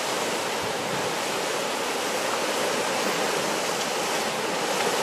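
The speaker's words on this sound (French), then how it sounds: "Regarde la cascade là." Loud, constant roar of a waterfall at Petit Rocher near Moulon on the Côte Bleue, a dense, unbroken rush of falling water filling the whole clip with no other sounds.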